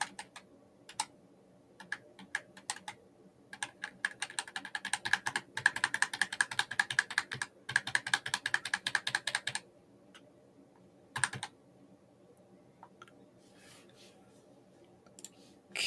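Computer keyboard keys being pressed in quick rapid runs of light clicks, with pauses between the bursts and a few isolated taps near the end, close and fairly quiet.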